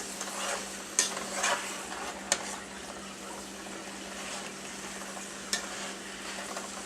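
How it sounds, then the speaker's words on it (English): A steady, quiet sizzle of meat frying in a pan for carne guisada, broken by a few sharp scrapes and clicks from stirring. "What I'm going to do is just keep stirring it and frying it"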